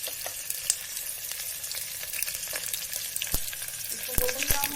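Onions frying and sizzling in a pan for mutton and spinach curry, a steady close hiss broken by sharp clinks of a spoon stirring, with no talking.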